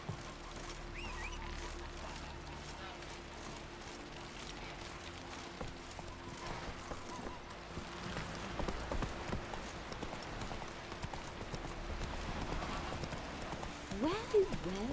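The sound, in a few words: Roach the horse's hooves, from the video game The Witcher 3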